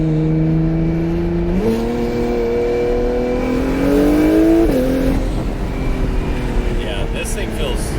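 A new Acura NSX engine pulls steadily while driving, a loud close in-cabin drone that climbs in pitch through smooth gear changes, with a jump in revs before settling into a steady cruise, and people talking over it.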